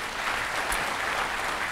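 Church congregation applauding together during a Sunday service, a steady even wash of clapping with no voices over it.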